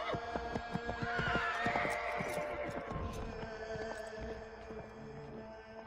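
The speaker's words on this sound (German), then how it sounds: "Pferde sind auch weg" Horse neighing and whinnying in the snowy frontier of the Assassin's Creed 3 video game, a clear whinny with hoof clip-clops and a low ambient hum, fairly close and steady throughout.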